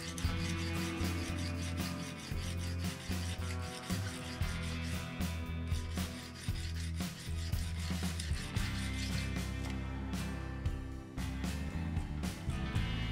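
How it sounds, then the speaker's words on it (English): Steel knife blade, a Strider SnG, being reground behind the edge on a sharpening stone, giving a steady close scraping rasp in repeated strokes that runs throughout with no pauses. "I intentionally lay down the knife further more so that I will be grinding behind the edge"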